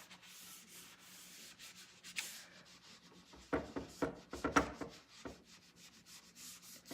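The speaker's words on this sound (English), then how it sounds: "just kind of more or less buffing that out, but using very light hand" Glaze on painted furniture is buffed with a light hand, making soft rubbing and brushing strokes, quiet at first and then a cluster of closer scuffing swipes in the middle before fading.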